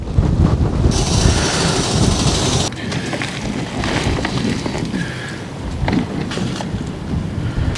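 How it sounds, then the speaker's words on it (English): A stormy wind squall buffets a wild-camping spot on Dartmoor near Yes Tor. Loud, roaring gusts batter the microphone without pause, surging and easing slightly partway through. "Another squall's come through and we've had to run for cover"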